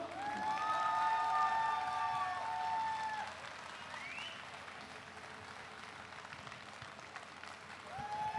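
Applause and some cheering from a jazz festival audience in Taichung for a jazz quartet, loudest over the first three seconds, then a steadier lower clapping that swells again near the end.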